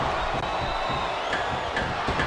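A crowd chants and cheers in the arena of the wrestling video game Smackdown vs. Raw 2007, a dense, continuous roar with a few sharp accents.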